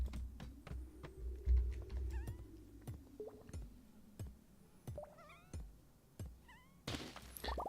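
Several short, faint cat meows scattered across the stretch alongside clicky computer keyboard typing and occasional soft thunks, a quiet indoor scene with no talk.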